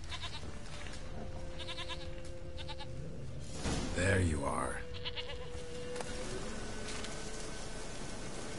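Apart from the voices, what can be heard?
goat bleating in video game The Witcher 3: Wild Hunt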